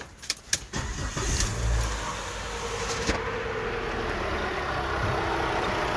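A car engine with a loud internal noise cranks with a few quick bursts, catches, and settles into a steady running rumble, close by.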